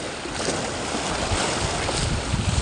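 Strong sea waves and rushing water churn loudly and steadily at a fishing spot in Mabini, Batangas, with broadband wash and wind noise, no voices.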